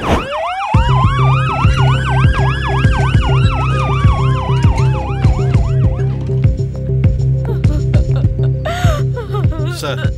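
A loud ambulance siren wails up and down close by, layered with a rapid yelping siren pattern over steady engine noise.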